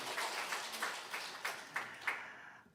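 A church congregation clapping in welcome for visiting elders, soft rhythmic applause with a steady beat that fades out at the end, fairly distant.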